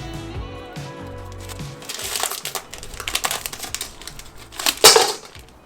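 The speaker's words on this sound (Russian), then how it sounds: "Каждую шоколадку открываем." Chocolate bar wrappers crinkle and crumple in bursts of varying loudness as each bar is opened, close by, with scattered sharp crackles.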